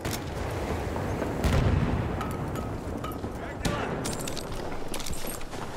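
Battlefield 1 combat rumbles with booming, distant-sounding gunshots and explosions, several sharp cracks scattered across the stretch, amid battlefield noise and bits of voice.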